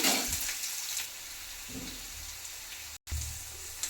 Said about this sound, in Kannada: ಈರುಳ್ಳಿ ಹಾಕ್ಬೇಕಾಗುತ್ತೆ ಈರುಳ್ಳಿ ಡ್ರೈ ಆಗಬೇಕು